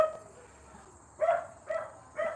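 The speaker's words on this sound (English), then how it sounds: "Those are my neighbor's dogs." Neighbors' dogs bark outdoors at a moderate distance, three separate short bark bursts spaced about half a second apart over a steady background hum.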